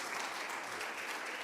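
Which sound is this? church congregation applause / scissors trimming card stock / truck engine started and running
church congregation applause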